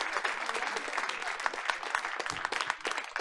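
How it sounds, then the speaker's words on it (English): Audience applause at an evening Board of Education meeting honoring guests, a dense steady patter of many hands clapping throughout, moderately distant and sustained. "Audience, please give everyone a round of applause."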